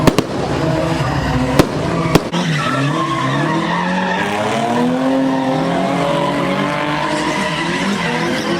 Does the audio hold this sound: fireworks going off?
yes